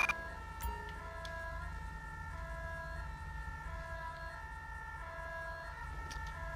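An ambulance siren in GTA 5 wails in a steady repeating two-tone pattern, loud and continuous over low vehicle rumble, with no talking.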